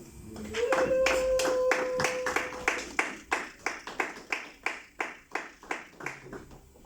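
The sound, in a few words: congregation applauding for the Lord in church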